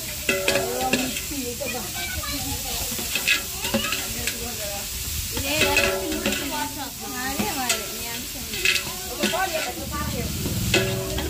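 Chicken for a curry sizzles and spits steadily in a hot pan while a spoon stirs it, with repeated scraping strokes over a continuous loud frying hiss.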